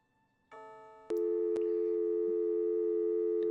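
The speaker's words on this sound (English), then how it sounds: "Oh, it's a phone call." A telephone rings in the adventure game Gabriel Knight: Sins of the Fathers, a steady electronic tone starting softly and then swelling to a loud, sustained ring with faint clicks, no voices.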